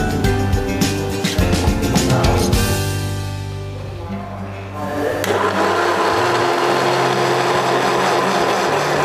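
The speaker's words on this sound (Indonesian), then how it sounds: "Kita blender ya." An electric kitchen blender processes boiled oyster mushrooms with a loud, close, continuous whir. The motor tone shifts and briefly dips partway through before running hard again.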